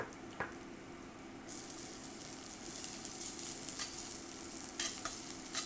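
Ginger sizzling in olive oil in a pan on an induction burner, a soft continuous sizzle with stirring scrapes and a couple of sharper clicks, close and fairly quiet.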